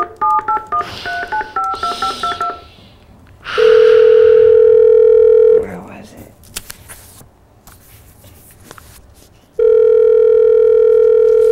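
Rapid telephone keypad tones beep in a quick sequence, then a steady loud dial tone hums for a couple of seconds, with shuffling and a brief voice between, before the tone returns.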